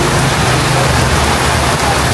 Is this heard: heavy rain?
yes